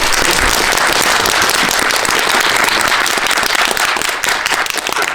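Loud, dense applause fills a cinema after a film screening and guest visit, the crowd clapping hard and continuously for several seconds without any voices.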